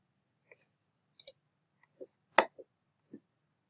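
A computer mouse clicks while saving a report, giving about half a dozen faint, sharp clicks spaced irregularly over a quiet background.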